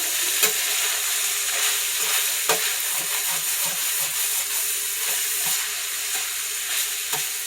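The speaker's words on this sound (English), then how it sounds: "you're going to want to continue to saute this for another 2 to maybe 4 minutes" Shepherd's pie filling sautéing in a pan, a steady close sizzle with occasional sharp scrapes and stirring knocks from a utensil.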